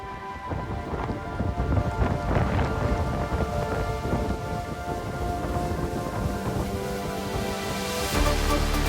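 Rain and wind in the Outer Hebrides, a dense continuous wash of falling rain and gusting air, loud and close throughout, with a heavier rumbling surge near the end and no voices.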